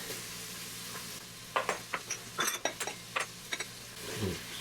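Herbs and garlic going into a hot minestrone soup pot, with a low sizzle beneath a run of close, sharp spoon scrapes and taps as they are stirred.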